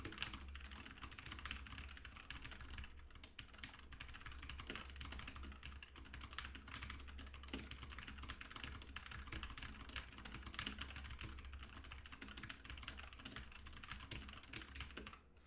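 Steady, rapid keystrokes on a computer keyboard during typing practice, a continuous close-up clatter for the whole stretch with no voices.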